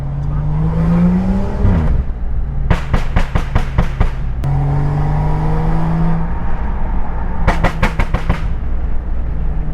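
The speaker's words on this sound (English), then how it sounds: "I do love how good the car sounds. I like the burbles." A tuned BMW 535i M-Sport revs through rising gears, then on lifting off lets out two loud bursts of rapid crackling exhaust burbles, with the engine drone close throughout.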